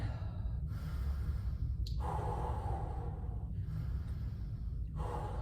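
Slow, deep yoga breaths during a no-equipment workout, with long drawn inhales and exhales in a few audible cycles, close to the microphone and fairly quiet.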